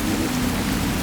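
Steady rain falling in a dark city night scene, a dense continuous hiss of drops, loud and even throughout with no talking.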